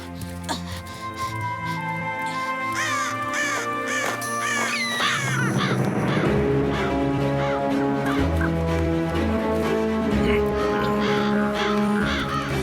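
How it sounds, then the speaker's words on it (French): Crows caw repeatedly amid other fowl calls, set against a continuous musical score, with a scolding voice shooing the birds away from an animated outdoor scene. "Allez, oust les oiseaux! Saleté de corbeau."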